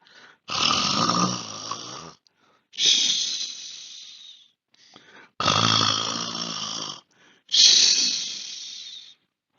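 A person imitates snoring with four long, rasping inhales and exhales, close and breathy, separated by short pauses.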